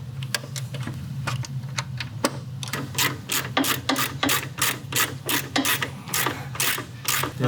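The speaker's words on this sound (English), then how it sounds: "I'm gonna go ahead and bolt this on." A ratchet wrench tightens a bolt on a part being fitted to an old, rusted Harley-Davidson motorcycle rescued from a junk pile. Rapid, steady clicking runs close and clear throughout, with no talking.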